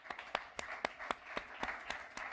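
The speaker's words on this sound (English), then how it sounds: "that got a big round of applause" An audience at a Cannes film-industry panel breaks into applause, a brief, fairly faint wash of many hands clapping with a few sharper claps standing out, without voices.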